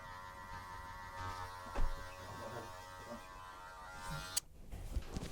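Electric hair clippers buzz steadily as they shave a man's head close, a constant nearby hum with small bumps and rustles as the blades pass over the scalp, and a brief break near the end.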